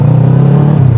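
A 2012 Kawasaki ER6N 650cc motorcycle engine revs with a loud, steady, close-up rumble that holds a constant low drone throughout.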